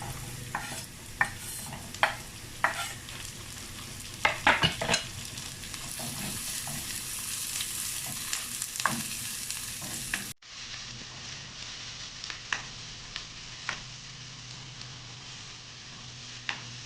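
Onion and celery sizzle in a pan with garlic already fried golden brown, a steady frying hiss broken by scraping stirs and small clicks of a utensil, close and continuous, with a slight drop in level partway through.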